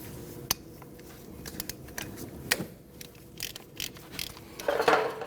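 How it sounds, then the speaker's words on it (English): A ratchet works on the 14mm brake hose bolt at the front caliper of a 2012–2016 Honda CR-V, giving close, uneven mechanical clicks and clacks scattered over a few seconds, with no talking. "You need to remove this 14mm bolt."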